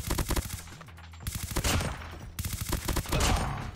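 A Type25 assault rifle firing in COD Mobile, sustained automatic bursts with short gaps between volleys, loud and continuous against game background noise.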